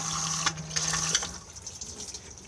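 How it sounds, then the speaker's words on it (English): Cassette toilet in a Swift Conqueror 570 motorhome flushing: a short close rush of water through the bowl with a faint pump hum at the start, then settling into a quieter trickle. "push to flush"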